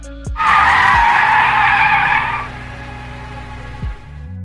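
A car in a film brakes hard and spins around, tires screeching loudly for about two seconds before the skid fades into a lower rumble of the engine.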